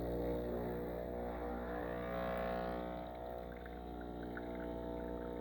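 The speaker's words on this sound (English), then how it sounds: "This is the second shot I'm pouring" An espresso shot pours from a Breville espresso machine with a newly replaced group head seal, a soft steady trickle over a constant low machine hum with no talking.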